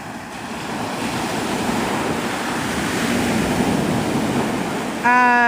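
Surf waves washing steadily onto Navarre Beach, Florida, a continuous broad roar with wind noise on the microphone, ending in a brief tonal note near the close.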